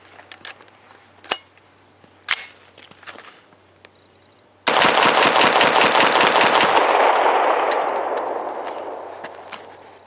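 A CMMG Guard 45 pistol fires Hornady Critical Defense hollow-point rounds outdoors: a few scattered sharp shots, then a loud rapid string of reports whose ringing echo slowly fades.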